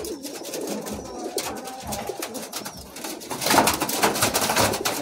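Healthy Madrasi pigeons kept for sale at a home loft coo in soft overlapping murmurs, steady and close, with a brighter burst of noise toward the end.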